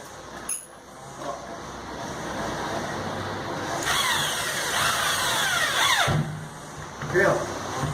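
Power drill driving a screw into a drywall ceiling, heard close as a rising whirring buzz that swells, drops away and returns briefly, with someone speaking Portuguese over it.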